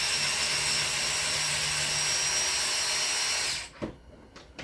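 A DeWalt power tool runs in a steady, loud whine during cylinder head work on a 6.5L diesel engine, then stops abruptly, leaving a few faint knocks and clanks.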